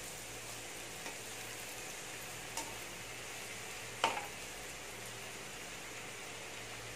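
Food fries in oil on a stove over medium heat, a soft, steady sizzling hiss heard from a distance, broken by a few faint clicks and taps, with no talking.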